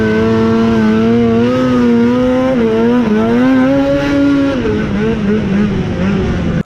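Snowmobile engine on a riding track, a loud close droning whine that rises and falls in pitch as the throttle changes, with a brief word spoken over it.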